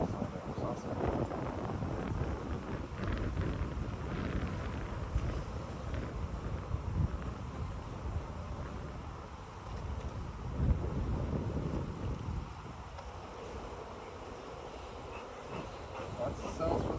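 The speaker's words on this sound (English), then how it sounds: "We're probably more exposed to the wind on this side of the saucer." Wind gusts across the microphone outdoors beside open beehives during an inspection, a steady low rushing roar filling the whole stretch with a faint hum of bees beneath it.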